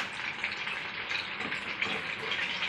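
Sabudana vadas frying in hot oil, a steady dense crackling sizzle that holds evenly throughout at close range, with no voices.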